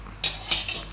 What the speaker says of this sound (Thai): มาตั้งกระทะนะครับ